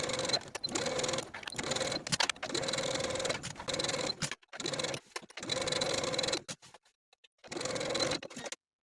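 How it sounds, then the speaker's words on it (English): A sewing machine stitches bias tape binding around a top's neckline in several bursts of fast, even whirring, separated by short pauses where the machine stops. "Now we're going to sew the binding in place all around the neckline from back slit to back slit"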